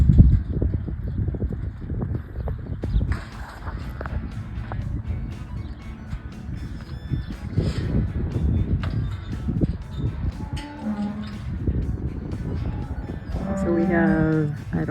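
Dairy cows waiting to be let out moo repeatedly in a noisy outdoor setting, with low lowing calls overlapping amid wind and rustling; one clearer, higher moo near the end.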